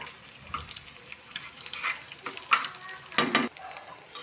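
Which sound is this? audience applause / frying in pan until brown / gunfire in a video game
frying in pan until brown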